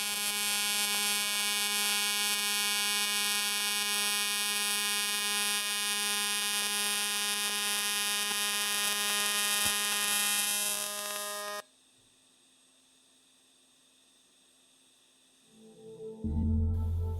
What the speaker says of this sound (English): this is just like butt welding thin aluminum